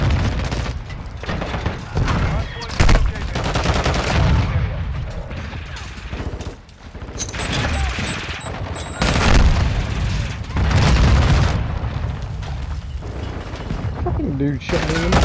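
Video game gunfire in a match on the Shipment map, including a sniper rifle: loud, dense volleys of shots and booms burst repeatedly across the whole stretch, with a voice talking over the shooting.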